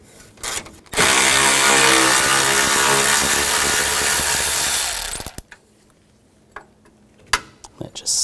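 A power tool drives a 10mm socket to remove a bracket bolt on a 2016-2022 Honda HR-V during A/C condenser replacement, whirring loudly and steadily for about four seconds, then stopping, followed by faint clicks and handling noises.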